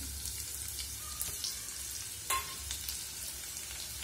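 Sliced onions dropped into hot cooking oil for chicken biryani fry with a soft, steady sizzle and faint crackles, one brief louder spatter near the middle, no speech.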